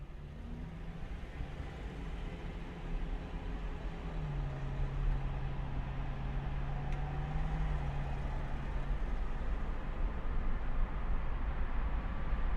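A car cruising in third gear around town, with steady engine drone and road rumble that stays even and close throughout, plus a faint tonal whine rising partway through.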